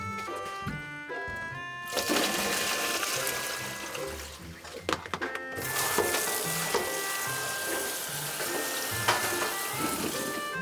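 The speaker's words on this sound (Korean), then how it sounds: "약한 불에서 시럽에 호두를 덮어주는데 타지 않으려면 주걱을 계속 저어야 합니다" Walnuts are stirred with a spatula in syrup over low heat for traditional Korean hangwa, a steady soft sizzle and bubbling with scraping and stirring noises throughout, fairly quiet and close.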